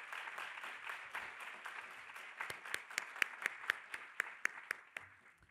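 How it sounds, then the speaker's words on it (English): Crowd applause for a saxophonist at the DeKalb State of the County evening address, a soft wash of clapping that thins into a few distinct, sharper claps as it dies away. "please give another round of applause to our musical guest"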